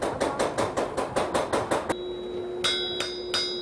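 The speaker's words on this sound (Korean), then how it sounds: "뭐 망치 같은 소리" Hammer strikes on an anvil at a blacksmith's stall in a traditional market, a quick even run of ringing blows, then a pause with a lingering metallic tone before three slower, spaced strikes.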